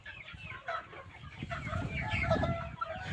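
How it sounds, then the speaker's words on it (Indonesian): KUB chickens of several ages cluck and chatter together on a poultry farm, a busy close flock with overlapping calls and an occasional crow-like cry, steady throughout. "Banyak sekali di sini berbagai generasi ayam ya"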